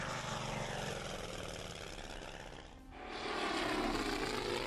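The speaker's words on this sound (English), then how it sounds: "More planes coming from the north." Propeller aircraft drone overhead in Order of Battle: Pacific during the Pearl Harbor attack, a steady buzzing engine roar that dips briefly midway, then swells back louder.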